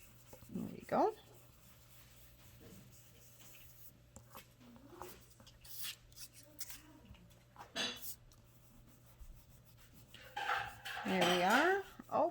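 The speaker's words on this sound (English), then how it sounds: "Oh, and there's dishes clanging." Dishes, pots and cutlery clang and clink intermittently in a kitchen, scattered bright knocks spread across the span, with a dog whining near the end and faint background activity.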